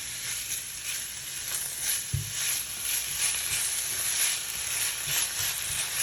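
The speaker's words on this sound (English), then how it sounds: "A handful of diced garlic. Gonna saute them and" Diced garlic and onion sauté in a hot cast iron pan, giving a steady close sizzle and crackle with one brief knock of a utensil partway through.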